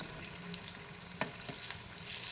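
Wheat flour bondas fry steadily in oil over a medium flame, giving a continuous soft sizzle with a few brief clicks from a spoon or ladle.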